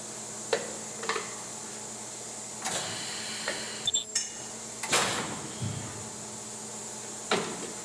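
A Sharpertek 15 kHz ultrasonic plastic welder fires a short, piercing high-pitched whine midway through. Scattered clicks and clunks of parts being handled come before and after it.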